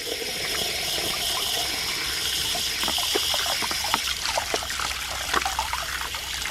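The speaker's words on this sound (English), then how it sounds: "You just fill it up with water and that will move the bubbles out." Water trickles and splashes steadily into a recycled plastic bottle, a continuous running pour with gurgling bursts and faint clicks throughout.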